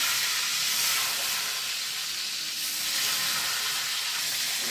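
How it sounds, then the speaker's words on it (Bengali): Eggplant slices sizzle steadily in hot oil in a pan, a continuous broad frying hiss with no talking, holding at an even level throughout. "এবার আমি বেগুন ভাজাগুলো ছেড়ে দেবো একটা একটা করে"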